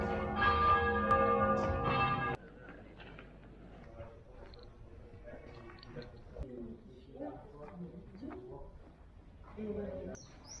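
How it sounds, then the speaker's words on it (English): A church bell rings loudly for about two seconds and stops, leaving a quieter outdoor scene with soft bird coos and faint voices. "Church bell."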